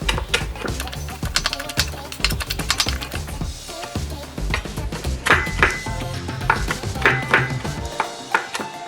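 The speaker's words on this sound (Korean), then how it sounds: "그냥 이렇게 다져주기만 할 거예요" A knife minces ingredients on a board for abalone porridge in a home kitchen, a steady run of quick, close chopping taps that carries on for the whole stretch with a tonal background underneath.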